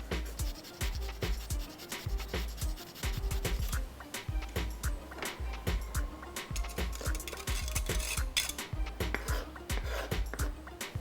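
Fresh ginger rasped against a grater in quick, rhythmic scraping strokes, close and crisp, repeating steadily for several seconds with no talk.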